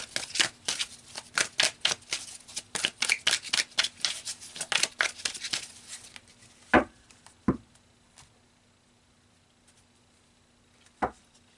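Tarot cards are riffled and shuffled in a quick run of crisp, papery bursts, then a few sharp, isolated snaps as cards are pulled and laid down, close by and with no voices.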